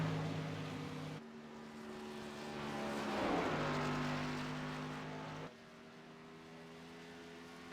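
Race car engine roaring around the track in a charity heat race, a loud sustained drone that swells as the car passes near and then eases off, with the engine pitch shifting mid-pass.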